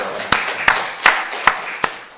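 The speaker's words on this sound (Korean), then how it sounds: "살아계신 하나님께 박수로 영광 드리겠습니다." Sharp claps ring out in unison from a congregation in a Korean Full Gospel church during a New Year's Eve service, with five loud, evenly spaced claps about half a second apart over faint room background.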